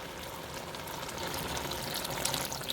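Two quarts of broth poured into a stuffed pepper soup base, a steady splashing liquid rush that builds slightly in loudness and runs continuously throughout, with no talking.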